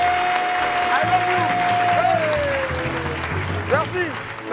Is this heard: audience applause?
yes